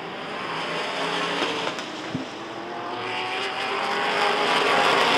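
Race cars roar around Rockford Speedway during a bracket feature, a loud continuous engine drone that swells as the field passes, with a brief knock partway through.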